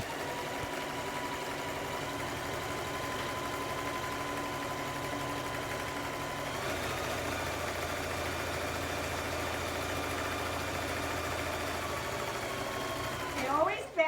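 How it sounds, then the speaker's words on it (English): A sewing machine runs steadily, stitching down the sides of a fabric project, its continuous motor hum and needle clatter holding throughout and intensifying slightly midway, with a brief clunk at the end; faint talk sits beneath. "We're going to go ahead and sew the sides down."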